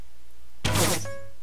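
A single Minecraft bow arrow thuds into a zombie in a Dwarves vs Zombies battle, a loud, dense impact that is quickly followed by a brief clear ringing ping, with quiet before and after.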